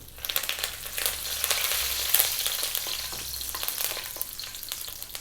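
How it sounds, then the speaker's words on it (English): Loud, steady sizzling of fresh curry leaves dropped into hot oil, with crackling spits and pops throughout, close up and without voices. "We're now going to drop in the fresh curry leaves. Sometimes it's going to be very noisy."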